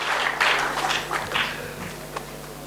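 A church congregation applauding for the Lord: a broad, steady patter of clapping that swells briefly and then thins out over a couple of seconds.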